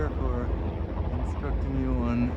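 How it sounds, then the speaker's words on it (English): Helicopters flying over Manhattan give a steady low rumble with a faint whirring drone. It runs continuously beneath close talk. "So I hope you're enjoying the sound of the helicopters above."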